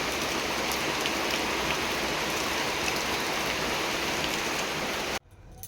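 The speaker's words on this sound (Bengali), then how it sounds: "এই দেখো কেমন জোরে জোরে শুরু হয়ে গেছে বৃষ্টি" Heavy rain pours down in a dense, loud, unbroken roar of drops on surfaces, close by and steady for about five seconds before cutting off abruptly.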